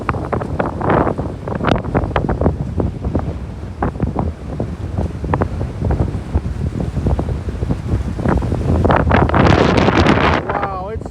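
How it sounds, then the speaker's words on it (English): Strong hurricane wind on the Florida coast at Anna Maria Island, loud gusty buffeting on the microphone with surging bursts throughout, and a voice speaking faintly underneath near the end. "The wind keeps blowing."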